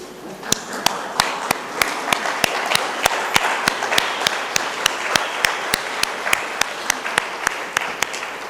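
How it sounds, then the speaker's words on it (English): A national science and technology conference audience gives a standing ovation, with loud sustained applause and a steady rhythmic beat of sharp claps throughout. "I request all of you to give a standing ovation to SIT and its team"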